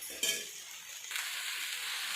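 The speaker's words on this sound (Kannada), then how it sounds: "ಒಂದು ಕಡಾಯಿಗೆ ಹಾಗಲಕಾಯಿ ಹಾಕಿ ಸ್ವಲ್ಪ ಎಣ್ಣೆ ಹಾಕಿ ಫ್ರೈ ಮಾಡಬೇಕು." Sliced bitter gourd frying in a little oil in a kadai, a steady bright sizzle with a brief stirring clink near the start and a second swell of hiss partway through.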